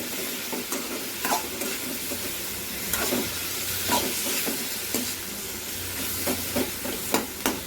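Onions and other ingredients fry in a pan for paneer butter masala: a steady, hissing sizzle with repeated scraping stirs and utensil knocks at uneven intervals, up close and without speech.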